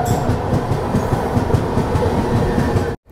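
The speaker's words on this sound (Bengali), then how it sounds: "একেবারে সঠিক সময়ে ট্রেন ছেড়ে দিল" A passenger train pulls out of Kolkata bound for the Kumbh Mela at Prayagraj, its loud steady rumble overlaid with rhythmic clickety-clack of wheels over rail joints, heard from inside the coach before an abrupt cut.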